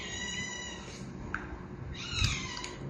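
Domestic cat meowing indoors on a rainy evening, two or three short plaintive meows rising over a low background hum, close and moderately loud.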